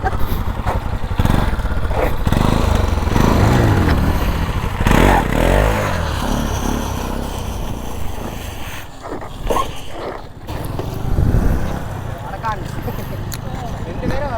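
A motorcycle engine revs and surges steadily up close during stunt circle riding with the bike leaned over and throttle held, its loud drone rising and dipping while someone talks over it.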